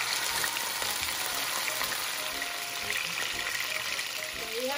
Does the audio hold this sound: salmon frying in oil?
yes